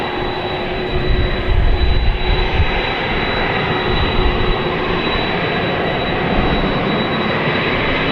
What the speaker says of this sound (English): This was the plane that came in from Louisville.